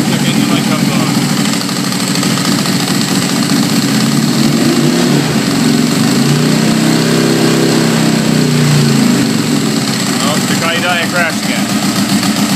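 A car engine sputtering unevenly at close range, its loud, rough drone wavering and faltering as it threatens to stall again, with no talk over it.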